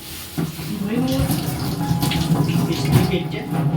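Water is sloshed and swirled while something is washed by hand, a close splashing and running-water sound under a person talking.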